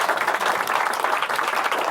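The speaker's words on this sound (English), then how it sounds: "you can accept all of this applause for your help" An audience at a magic show applauds a helper, loud, close, continuous clapping from many hands with a quick, fluttering texture throughout the short stretch.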